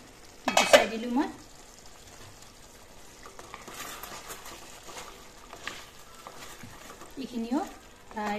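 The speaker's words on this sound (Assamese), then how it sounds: "এইখিনিও প্ৰায় 10 মিনিট সময় এনেদৰে ভাজিলো" Chicken curry with green peas fries in a pan with a low, faint sizzle, broken at the start and the end by scraping strokes of a stirring utensil against the pan.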